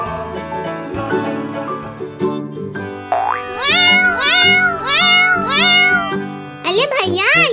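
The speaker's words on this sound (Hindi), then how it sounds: "ये बच्चे बार बार दरवाजे की तरफ देखकर म्याऊं म्याऊं क्यों कर रहे हैं" Kittens meowing over and over, a series of high, bending mews close by, repeated in quick succession over steady background noise, with someone speaking now and then.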